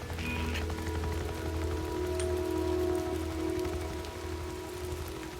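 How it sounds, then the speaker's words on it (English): Rain falling steadily in the open world of Days Gone, a constant patter on surfaces with low rumbling ambience and faint tonal game sounds beneath, no voices. "Seems like it's always raining out here."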